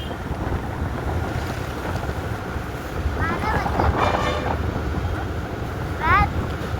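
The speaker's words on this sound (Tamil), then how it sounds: "பைக்கில் போயிட்டுருக்கு பசங்களோட." A motorbike ridden with friends along a rural road to a village, engine drone buried under constant heavy wind buffeting on the microphone, with faint chirps rising briefly now and then.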